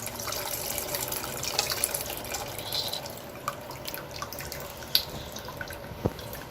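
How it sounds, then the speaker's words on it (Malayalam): Soaking water being poured into a pot of South Indian sambar, a light trickling splash with scattered drips and small clinks, close by and without talk. "ഞാൻ ഈ വെള്ളം ഇതിനകത്തേക്ക് ഒഴിക്കുകയാണേ."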